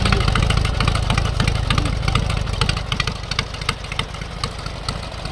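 Vintage MTD racing lawn tractor engine running: a steady, loud, close rattling idle with fast regular firing pulses and no voices.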